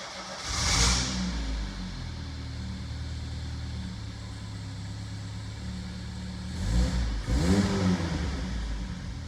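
A 1985 Citroën CX Pallas engine catches and settles into a steady, low idle, then revs up briefly near the end, heard close with no talking.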